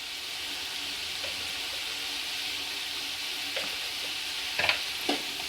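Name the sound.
peas frying and being stirred on high flame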